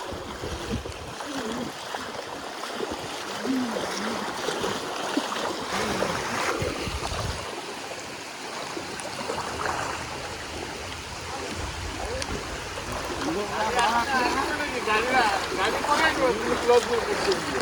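Heavy floodwater rushes over a road on the way to Ahiyas from Katia Chhak, a continuous loud roar with wind buffeting the microphone, while people talk over it.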